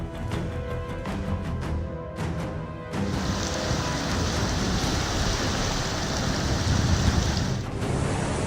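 Heavy rain pours steadily and loudly, a dense unbroken roar that thickens after a few seconds, with no voices over it.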